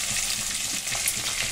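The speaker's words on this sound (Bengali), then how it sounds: "আর এই মাছগুলো দেখো ভাজা করি" Fish fry in hot oil in a pan in a home kitchen, a close, steady crackling sizzle with small popping bursts and no voices.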